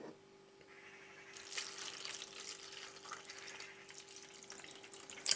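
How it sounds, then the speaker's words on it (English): Water pours over tomatoes sprinkled with bicarbonate of soda for tomato jam, a steady close trickle and splash that runs several seconds at moderate level. "Cover it up with water."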